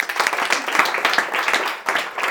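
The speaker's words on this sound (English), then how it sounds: "They will give you a big round of applause." An audience breaks into steady, dense applause, many hands clapping together at close range in a continuous even roar with no break.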